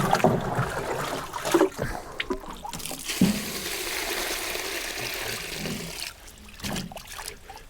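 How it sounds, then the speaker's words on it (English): Rainwater poured into a container packed with weeds for homemade fertilizer, a continuous close splashing and gurgling stream with a few knocks, easing off near the end. "we can just add our water"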